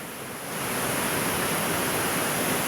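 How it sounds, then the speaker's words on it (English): Falling water at a grist mill park with a covered bridge and working mill, a broad steady roar that swells in after a moment and then holds constant and loud, with no voices. "So we actually have falling water,"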